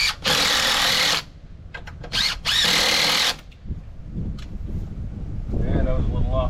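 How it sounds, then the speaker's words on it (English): A cordless power drill drives screws into a repaired garden gate outdoors: two loud sustained whirring bursts, the second broken by brief stops, followed by quieter handling noise and wind. "Put all the rest of these screws in."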